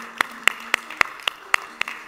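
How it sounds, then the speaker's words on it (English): A congregation claps in a steady, evenly spaced rhythm during a church worship service as children leave, each sharp clap clear and distinct, with no talking over it. "if we can give them a round of applause and encouragement"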